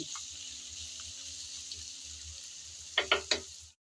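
Red amaranth greens being stirred with turmeric in a frying pan, a soft steady sizzle with a few quick scraping clatters near the end, faint and close.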